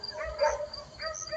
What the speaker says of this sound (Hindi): ये सुनिए आप, ये कुत्तों की आवाज़ कितनी खौफनाक आवाज़ से भौंक रहे हैं।